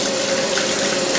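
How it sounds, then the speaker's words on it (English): Tap water runs steadily into a sink while hands are washed in a home kitchen, a loud close continuous rush of water with no talking. "But first I gotta wash my hands"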